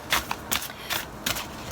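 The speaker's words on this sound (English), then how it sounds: "I kind of got in the zone of shuffling there for a minute." Oracle cards being shuffled by hand in four quick, crisp riffling bursts evenly spaced, close and fairly loud with no voice.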